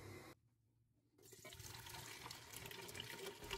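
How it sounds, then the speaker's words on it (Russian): Liquid from jars of cherry compote is poured back into a pot. After a short quiet gap there is a steady, splashy rush of pouring liquid that continues to the end. "Итак, сливаем воду и еще раз кипятим."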